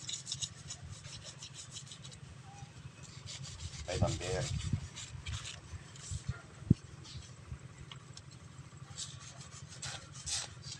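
Rough, steady rubbing of sandpaper scraping back and forth over a gate, close by, with a few brief words spoken over it.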